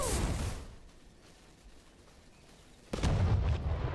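A bomb detonating in the video game V Rising bursts in loud and sudden about three seconds in, after a noisy opening and a quiet stretch, with a booming low rumble.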